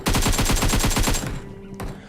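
An M762 rifle fires a rapid full-auto burst of about a dozen evenly spaced, loud shots in the PUBG video game, followed by a quieter tail and a faint later sound.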